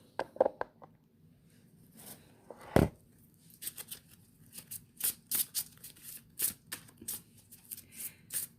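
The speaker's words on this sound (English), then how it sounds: "I'm going to shuffle the cards" Close, crisp riffling and flicking of a tarot card deck, in several quick bursts separated by short pauses, with a sharper slap partway through.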